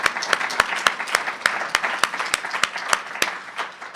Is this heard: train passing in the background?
no